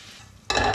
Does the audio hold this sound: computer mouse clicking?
no